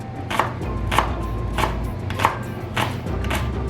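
A knife chops the ends of green onions on a cutting board for breakfast fried rice, six crisp, evenly spaced chops landing about every half second over a low steady hum.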